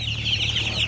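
Poultry chicks peep continuously in a dense, shrill chorus at a seller's stall, fairly close and steady throughout, with a low hum running beneath.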